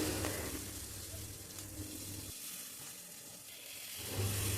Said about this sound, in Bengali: এবার মশলাটা আর একটু কষিয়ে নেব